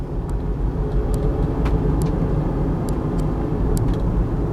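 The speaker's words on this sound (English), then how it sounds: "The motor runs good" Engine of a Chrysler Pacifica from a scrapyard idling steadily and fairly loud, a continuous low rumble running through the whole stretch with a few faint ticks on top.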